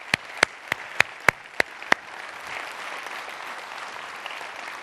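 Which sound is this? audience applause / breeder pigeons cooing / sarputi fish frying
audience applause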